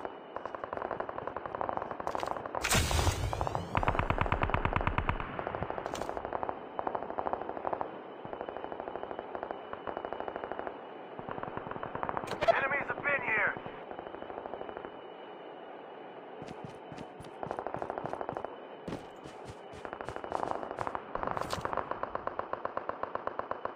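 Rapid automatic gunfire rattles through a Call of Duty Mobile match in long bursts and single shots, loud and close, with brief gaps between volleys and no talk.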